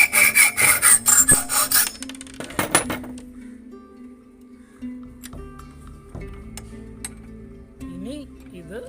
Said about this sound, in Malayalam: ഇതിൻ്റെ ബാക്ക് ഭാഗം ഇതിൻ്റെ ഇവിടെയായിട്ട് കട്ട് ചെയ്യുന്നു.